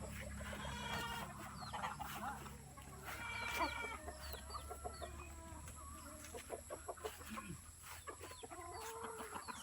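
Chickens cluck softly and continuously on a farm in the late afternoon, a faint scattered chorus of short calls against steady background noise.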